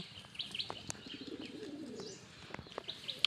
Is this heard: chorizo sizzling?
no